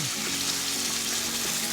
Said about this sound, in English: The tomato mixture gets cooked down separately in a pan I've got over medium heat here